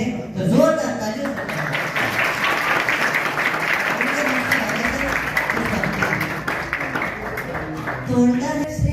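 A school audience claps loudly for children coming onto a stage, the steady dense applause mixed with some voices and a few tonal sounds at the start and end.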